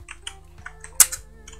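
Scattered keystrokes on a computer keyboard, a handful of light, separate clicks with one louder, sharper tap, close and alone against a quiet background hum.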